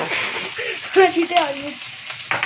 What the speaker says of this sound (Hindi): ये प्याज फ्राई हो रहा है